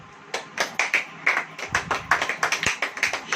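Church congregation claps during a sermon, a close, fairly loud run of steady rhythmic claps with no voices over them.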